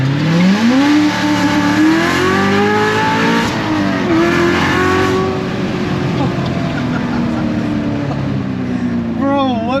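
A 2015 Chevrolet Corvette Z06 with over 700 hp, built up, accelerates hard in a loud, close in-car roar, the engine note climbing, briefly dipping at a shift, then rising again, with people talking over it.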